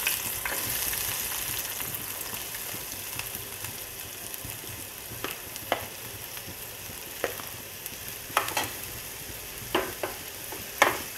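Onion frying in hot oil sizzles with a continuous bright hiss, joined by scattered sharp taps and scrapes of a spoon stirring in the pan, close by with no speech.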